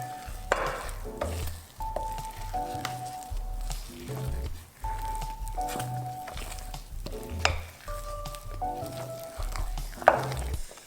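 Eggless brownie batter being stirred after half a teaspoon of salt goes in, with repeated wet squishing spoon strokes scraping a bowl, close and fairly loud, in a regular rhythm with occasional clinks.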